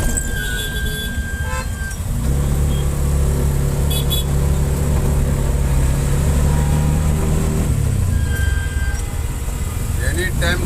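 Midday road traffic in Chennai, a continuous engine rumble of cars and motorbikes passing close by with occasional horn toots, voices speaking over it.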